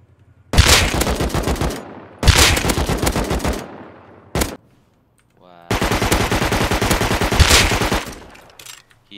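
Automatic gunfire in the video game Rust, several loud sustained bursts of rapid shots separated by brief pauses, with a single short burst in between.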